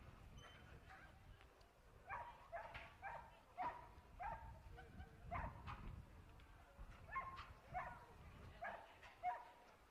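At an indoor dog show in Blackpool, a Bull Mastiff is led out while dogs give short, scattered barks and yips against the hall's background murmur, with a voice talking now and then.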